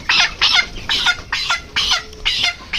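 A chicken being caught clucks and squawks in a rapid series of about six loud, close bursts, agitated and evenly spaced, with no talking.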